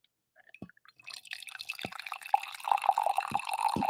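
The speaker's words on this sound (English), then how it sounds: "just appreciate the noise, the ambient wonder of the pour" Coffee poured into a cup, a steady liquid trickle building over a few seconds with small splashy drips, close and alone with no talking.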